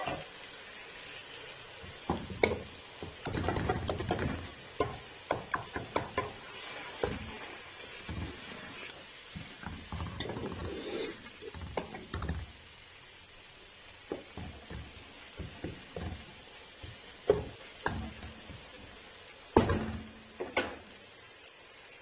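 Eggs frying in a pan with softened tomatoes give a quiet, steady sizzle, broken by scattered clicks and scraping from stirring and handling.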